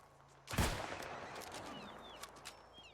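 A single sharp rifle shot in the game New World, loud and close, followed by a thin echoing tail and a few faint clicks and scattered small reports.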